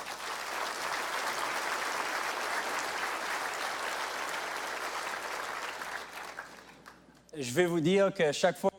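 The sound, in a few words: audience applause at the State of the Province Address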